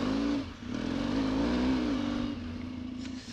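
Off-road trail motorcycle riding through mud, its engine holding a steady, droning hum with a slight rise and dip in pitch, moderately loud and continuous with no talking.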